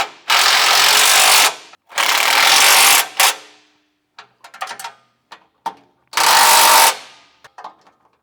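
A power tool whirs in several loud bursts of about a second each as M8 bolts are driven into a recovery point on a JB74 Suzuki Jimny, with faint clinks and handling noises between bursts.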